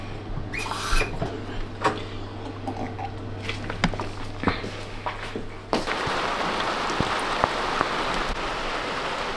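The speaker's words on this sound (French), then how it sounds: "parce qu'en plus il pleut et tout" Morning rain falls steadily outdoors, spattering on surfaces in a constant hiss that grows louder and denser partway through, with scattered nearby taps and knocks throughout.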